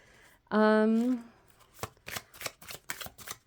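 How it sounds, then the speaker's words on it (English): A Star Tarot card deck is shuffled close by, its quick crisp riffling and soft card slaps following a short voice at the start. "So after all that shuffling, the Devil was what was on the bottom of the deck when I picked it up."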